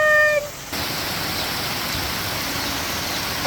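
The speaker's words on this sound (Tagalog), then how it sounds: "dahil sa sobrang lakas ng ulan" Heavy rain pours down in a dense, steady hiss for several seconds after a brief cat-like meow at the very start, with no one speaking.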